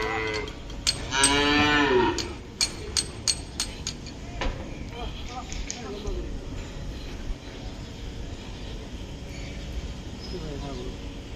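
A cow at a crowded Qurbani livestock market lets out one loud, drawn-out moo near the start. Sharp knocks and clatter follow, with people talking throughout.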